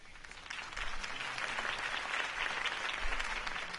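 Crowd applause following a campaign speech, a steady wash of clapping that swells after the first half second and carries on evenly throughout, with no talking over it.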